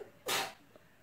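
A dog sneezes once, a single sharp burst close by, followed by a faint snort; the dog is lying on a bare floor indoors.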